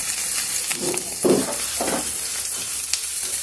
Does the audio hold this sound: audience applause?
no